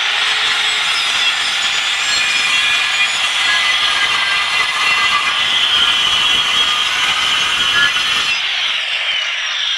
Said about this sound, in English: I'm going to make 1 inch and 1/8 cut across all these at the same time.